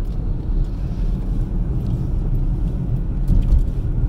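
Car interior while driving, a steady low road and engine rumble that stays even throughout, with no voices.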